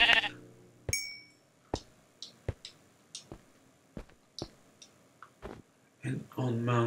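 Sheep in Minecraft, a bleat at the start and again at the end, separated by a string of soft, evenly spaced clicks and taps, with quiet game ambience and no other sounds.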